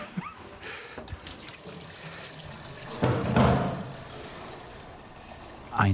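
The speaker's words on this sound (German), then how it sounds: "So, jetzt muss ich meine Hände waschen" Running tap water splashes over hands sticky from candy-making. A steady trickle swells into a louder, fuller gush about midway, then settles, close by.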